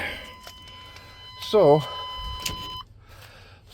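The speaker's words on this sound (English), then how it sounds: "let's kill the buzzer." A vehicle cab warning buzzer holds a steady, fairly loud electronic tone for about three seconds before cutting off, while someone speaks briefly over it.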